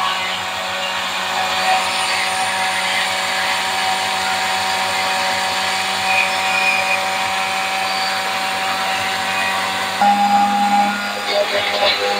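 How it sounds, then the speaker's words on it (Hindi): An electric kitchen grinder whirs steadily while grinding cumin seeds, a continuous motor whine running at even pitch for about ten seconds before a brief shift in tone near the end. "ये हो गया अब हमारा जीरा ग्राइंड अच्छे से"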